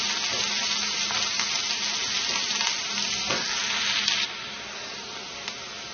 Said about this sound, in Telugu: ఉల్లిపాయలు, పచ్చిమిరపకాయ ముక్కలు వేసుకోవాలి. వీటిని చక్కగా వేయించుకోవాలి.